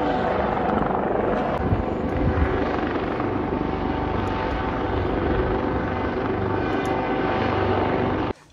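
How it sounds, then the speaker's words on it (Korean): A helicopter flies over the rocky ridges of Bukhansan mountain, its rotor chop a loud, steady drone that dominates for about eight seconds before cutting off abruptly. "지금 헬기가 떴는데."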